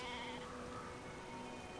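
Sheep bleating in the game Brothers: A Tale of Two Sons, a faint, wavering bleat heard over a steady background hum throughout the short stretch.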